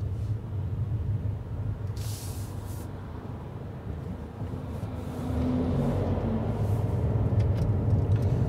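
A Mercedes C-Class driving on a highway, its steady low road rumble and tyre roar filling the cabin continuously, growing slightly louder and heavier partway through with no voices.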